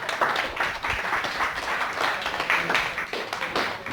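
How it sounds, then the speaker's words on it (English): A seminar audience breaks into applause, a dense steady burst of many hands clapping close by for about four seconds. "Give these guys a big round of applause"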